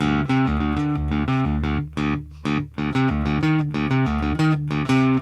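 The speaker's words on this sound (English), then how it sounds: "That sound is awesome on that bass." An electric bass plays a busy, punchy line with quarter-note triplets, hammer-ons and pull-offs, a growly, slightly distorted tone, and loud, close, rhythmic notes with brief gaps.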